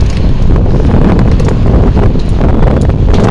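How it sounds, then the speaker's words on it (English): Strong wind in Cairo buffets the microphone in a steady, loud roar, with gusty rustling throughout and no voices. "It's very windy."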